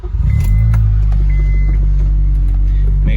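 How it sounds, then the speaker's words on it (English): An Acura/Honda car engine, with a whining power steering pump, fires up with a quick rumbling catch and settles into a loud, steady low idle close by. "So we fire up the car again"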